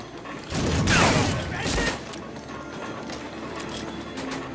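A train in the World War II shooter Medal of Honor Frontline rolls past with a loud clattering, rattling rumble that swells for about a second and a half, then fades to a steady mechanical background.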